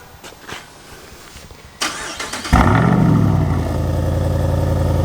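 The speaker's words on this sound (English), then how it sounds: "here, I'll do a remote start for you guys quickly" A Jeep Wrangler 392 with a big V8, bright pink, is remote-started: a sharp crank and catch, then a loud, steady rumbling idle that carries on to the end.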